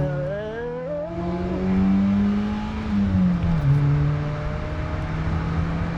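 Four-cylinder BMW M3 engine revving hard under acceleration, the pitch climbing, dropping at a gear shift, then climbing again; loud and close from inside the car, with no talk.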